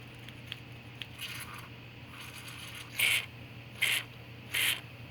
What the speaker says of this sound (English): I'm just going to keep poking in there until all that crust is out